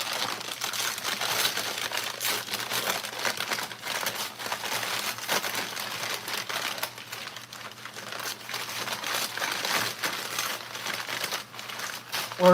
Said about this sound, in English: So I'm going to use a little bit more paper on the bottom and then some paper on the top.